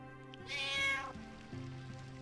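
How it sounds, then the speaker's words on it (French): Cat meowing in the Final Fantasy IX video game, a single clear, close meow over quiet game background sounds. "C'est un chat, ça?"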